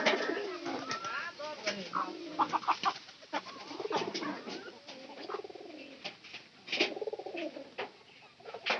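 Pigeons in a coop coo in soft, repeated, throaty rolls, several birds overlapping at close range, with a voice talking intermittently over them.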